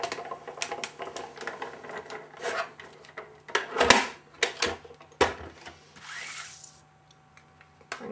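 A Cuddlebug embossing machine cranks a felt sandwich through with a run of rubbing, ratcheting clicks and scrapes, close and fairly quiet, ending in a brief hiss and near silence.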